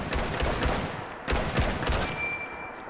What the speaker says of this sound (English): Of course, it has the beautiful ping sound as well.